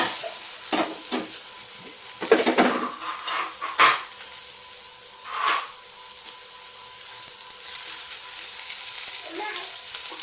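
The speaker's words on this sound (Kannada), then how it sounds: "ಚೆನ್ನಾಗಿ ಫ್ರೈ ಮಾಡ್ಕೋಬೇಕು." Food frying in a pan, with soft sizzling and several sharp scraping stirs and clinks of utensil against the pan, close by and without talk.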